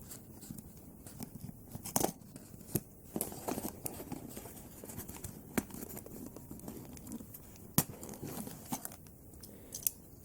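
Sharp snips and crunchy crackles of scissors cutting through the ties on Transformers toy packaging (Starscream and Thundercracker reissues), a run of quiet, irregular close-up cuts with faint rustling between them.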